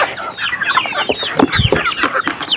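Rhode Island Red chickens cluck busily and continuously at feeding time, a close, dense chorus of overlapping short clucks from several birds being given grated coconut pulp and feed.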